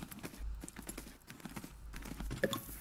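Horse hooves clip-clop steadily in a horse riding video game during a show jumping competition, a rhythmic stream of moderately loud steps with faint game ambience and no talk over it.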